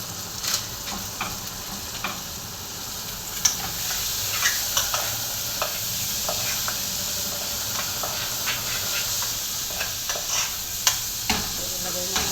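Butter shrimp cooking in a pan with sizzling and frying under steady stirring, utensil scrapes and light clicks recurring throughout, close and continuous with no talk.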